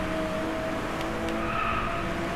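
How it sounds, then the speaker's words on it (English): A car drifts with a steady, loud tire skid and squeal over a continuous engine roar in the Driveclub racing game, sustained and close throughout. "Stop with the random drifting."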